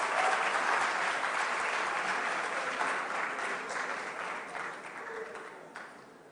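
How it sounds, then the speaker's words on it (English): A studio audience at a school quiz finale between Presec Legon and Adisadel College applauds the teams' scores, a steady wash of many hands clapping that slowly tapers off. "Round of applause"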